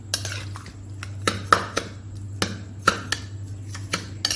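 Milk being stirred into pumpkin halwa in a metal pot, with a steady run of spoon scrapes and clinks against the pot, a few sharper knocks standing out, close and alone with no talk.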